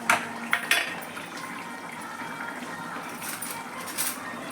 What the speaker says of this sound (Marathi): आता मी याच्यात वाटण घालते.